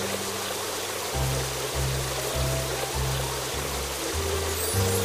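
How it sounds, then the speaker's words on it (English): In a video game, a steady rushing stream of sprayed water rinsing foam off a car runs continuously beneath a simple, repeating musical bass line. "Now rinse off the foam."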